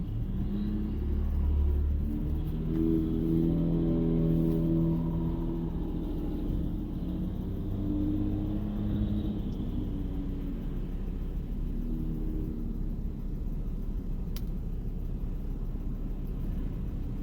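A car rolls through the town of Beavercreek, Ohio, with a steady low engine and road rumble from inside the cabin that holds constant throughout and carries no speech.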